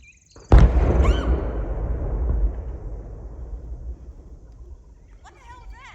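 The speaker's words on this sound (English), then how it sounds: "That was a major explosion that I don't know what it was." A large tannerite explosion goes off at a distance outdoors in central Indiana, a sudden sharp boom followed by a long rolling rumble that slowly fades over several seconds, with faint chirps near the end.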